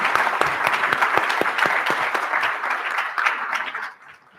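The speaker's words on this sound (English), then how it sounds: "a round of applause for our panelists." An audience at a business summit in Dallas gives a round of applause for a panel, with sharp, distinct claps that thin out and fade at the end.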